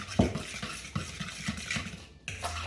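A spoon stirs two eggs into pumpkin bread batter in a bowl, with soft repeated scraping and clinking against the sides in a steady rhythm, close and fairly quiet, no talking.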